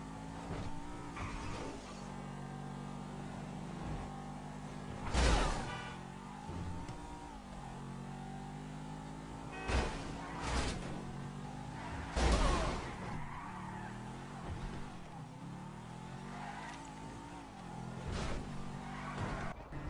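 Fast sports car driven in GTA 5 with its engine droning steadily throughout, broken by several sharp tire skids and revving bursts near 5, 10 and 12 seconds, with no talk.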